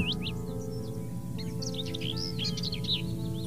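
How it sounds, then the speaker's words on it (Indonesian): Birds chirp and tweet in quick bursts over a steady low background hum, with no crowing standing out. "Suara burung kicau dan ayam berkokok saling bersahutan dari teras depan."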